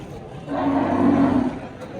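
A cow at the Chakan cattle market in Pune gives one low, drawn-out moo lasting about a second, close by, over a murmur of market background.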